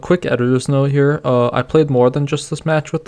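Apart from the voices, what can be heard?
No everyday noise stands out behind the speech.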